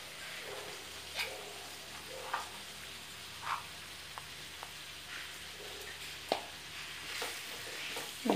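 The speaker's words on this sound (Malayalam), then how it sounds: "നമുക്ക് നന്നായിട്ട് ഇളക്കി മിക്സ് ചെയ്ത് കൊടുക്കാം" A spoon or spatula scrapes and clinks through a chilli chicken mixture with onion, capsicum and pepper powder in a pan, giving scattered sharp knocks every second or so over a faint, low sizzle.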